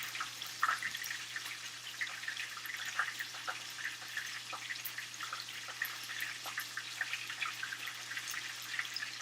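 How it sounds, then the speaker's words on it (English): Chicken tenders fry in hot oil, sizzling and crackling steadily, with scattered small pops over a low hum, fairly quiet and continuous. "now that the oil is hotter, this one's frying faster."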